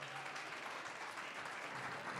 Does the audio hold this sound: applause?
yes